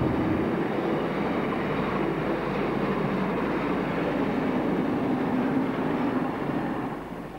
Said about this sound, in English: Fertiliser trains from Aitken Street were propelled back to Grendon Underwood Junction on the former Great Central by Class 31s